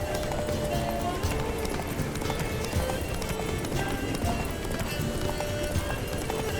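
Rapid, steady galloping horse hoofbeats pound continuously in a dense mix from the video game The Witcher 3: Wild Hunt, with a faint voice and ambient noise underneath.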